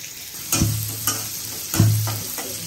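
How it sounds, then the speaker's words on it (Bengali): Chopped onions fry in hot oil in a home kitchen pan, giving a steady close sizzle broken by two scraping stirs of a spatula, with a faint low stove hum underneath. "প্রথমে তেল দিয়ে দিচ্ছি, পেঁয়াজ কুচি।"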